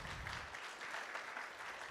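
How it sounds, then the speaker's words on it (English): Audience at a guide dog graduation applauding donors, a dense, even wash of clapping heard from a distance, faint and without pauses. "let's give our donors a round of applause"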